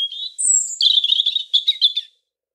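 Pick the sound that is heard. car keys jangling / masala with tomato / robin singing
robin singing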